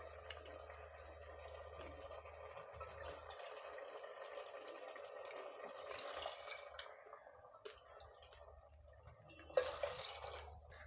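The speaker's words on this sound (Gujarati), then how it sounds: "હવે 4 વાટકા પાણી આપણે અત્યારે કુકરમાં મિક્સ કરશું." Water poured from a bowl into a pressure cooker of soaked lentils and rice for Kathiawadi green masala khichdi, a steady close trickle and drip with a brief louder splash near the end.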